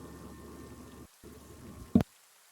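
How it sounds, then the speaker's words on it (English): A heavy downpour sound effect plays during a tabletop role-play session, a dense steady hiss of rain that briefly cuts out, resumes, then ends with a short loud thump. "It's not just raining; it's absolutely tipping it down."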